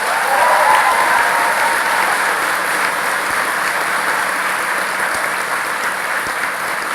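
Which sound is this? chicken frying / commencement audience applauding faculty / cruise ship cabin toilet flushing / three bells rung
commencement audience applauding faculty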